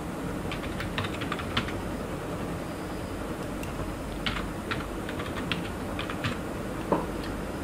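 Someone types a name on a computer keyboard: a close, quick run of light key clicks in short irregular bursts over a steady background hiss, with no speech.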